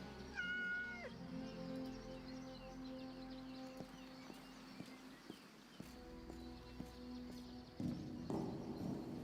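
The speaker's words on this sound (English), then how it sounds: "Gotta pet the cat every single time we're up here." A cat being petted in a medieval village video game gives short meows amid continuous game ambience, with hoof clip-clops and background music-like tones running throughout at low level.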